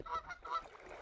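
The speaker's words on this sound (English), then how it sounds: "there's Hen Holme with the noisy bloody geese. And they're being really noisy." Geese on Hen Holme island on Windermere honk in a few quick, faint calls heard from a distance across the water.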